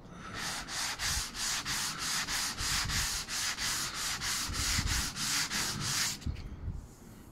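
Sanding a painted window board with 120 grit paper: steady rhythmic back-and-forth strokes, close and loud, roughly two per second, stopping abruptly near the end.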